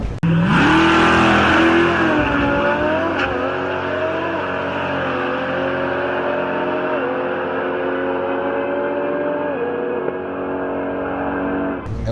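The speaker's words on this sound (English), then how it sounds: "That was a twin turbo underground Lambo, 1500 horsepower Lamborghini." A twin-turbo Lamborghini making about 1500 horsepower launches in a street race at a Miami car festival, its engine screaming loud and close as it climbs steadily through rising pitch for several seconds, with no talk over it.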